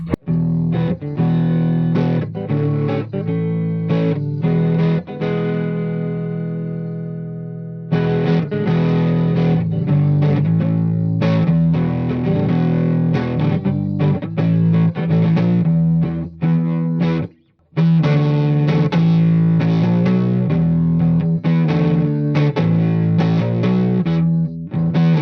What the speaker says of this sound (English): Let's kick it into the P90 and hear what that sounds like clean.